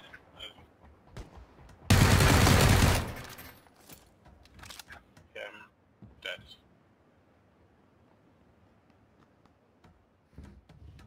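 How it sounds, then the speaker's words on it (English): A long loud burst of PUBG gunfire erupts near the start, a dense roaring volley lasting about a second, then sporadic fainter shots follow with a voice talking in between. "I'm getting shot at."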